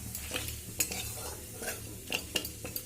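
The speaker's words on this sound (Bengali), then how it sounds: "শুকনো লঙ্কা, তেজপাতা আর গোটা জিরে ফোড়ন দিয়ে দেব।" Dried red chili, bay leaf and whole cumin tempering in hot oil, crackling and sizzling while a utensil stirs with scattered sharp clicks against the pan, close and quiet, without speech.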